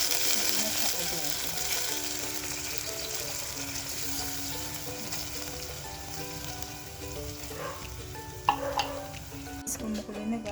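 Steady sizzling and bubbling of sardines simmering in a pan, continuous and close, with a few faint clinks near the end.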